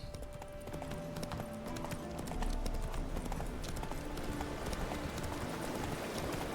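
Rhythmic clip-clop of a galloping horse's hooves in The Witcher 3, steady and continuous over game ambience, growing slightly louder midway.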